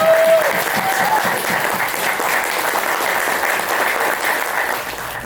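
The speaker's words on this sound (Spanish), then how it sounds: "un aplauso de nosotros" Wedding guests applaud after the ring exchange at a ceremony, a continuous wash of clapping from a sizable crowd, fairly loud and even throughout, with a brief whistle or tone early on.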